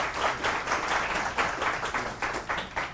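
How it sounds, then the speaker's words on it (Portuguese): Audience applause fills a lecture hall just before a talk begins, a steady wash of many hands clapping at moderate distance with slight rhythmic swells, no voices over it. "queria só uma salva de palmas para o pessoal aqui"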